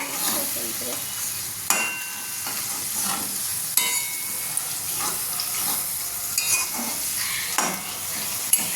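Onions browning to reddish in a kadai give a close sizzle, broken by intermittent spatula scrapes and clinks as they are stirred, with no talk.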